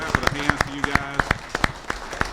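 Rhythmic clapping in a town hall meeting, regular sharp claps in a steady beat at moderate distance over a low background hum and faint tones.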